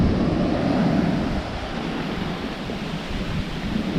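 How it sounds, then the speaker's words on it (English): Big swell and heavy surf breaking at the Bristol Channel shore an hour before high tide, a loud continuous roar of crashing waves close by with wind buffeting throughout. "There's a lot of swell here,"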